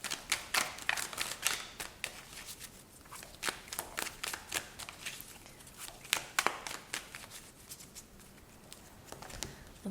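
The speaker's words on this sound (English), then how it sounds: "shuffle some more, maybe get a little bit more cards on here" Tarot cards are shuffled by hand at close range, giving a quiet, continuous run of soft riffling taps and flicks with no talking.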